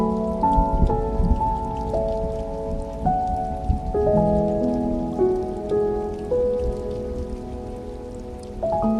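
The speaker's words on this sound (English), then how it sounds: "Let the warmth of the fire and the sound of the rain be your safe space today." Steady rain falls on a surface beside a cozy fireplace, with soft sustained tones running underneath throughout.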